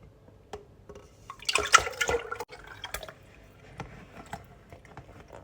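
Coconut cake batter pours and plops into a pan, a few soft wet glugs and splats clustered together, then quieter drips and small taps.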